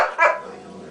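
A guard dog lets out a single sharp bark at someone outside, close and loud, fading quickly into quiet room tone.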